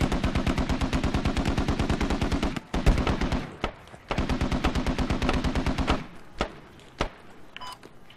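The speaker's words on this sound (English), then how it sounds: "Here, just in front of Razor, where I'm shooting there" Rapid automatic gunfire from the military shooter game Squad, loud, close bursts of evenly spaced shots, a short pause, then another long burst, trailing into a few single cracks with faint background noise.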